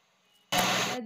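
Steam bursts into a sharp, loud hiss from a pressure cooker on high flame cooking masale bhat, cutting in abruptly after near silence and holding steady.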